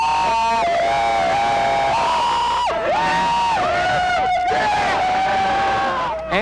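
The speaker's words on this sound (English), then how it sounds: "this crowd is going to get even bigger and noisier as the big moment approaches" A noisy New Year's Eve crowd on Las Vegas Boulevard in 1999, a loud, continuous roar of voices with shrill, wavering horn or whistle-like tones and shouts rising over the din.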